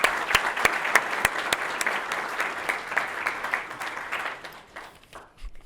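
A banquet audience at a family business awards event claps for an honoured company, a dense round of applause with a few sharp close claps standing out, fading and thinning toward the end.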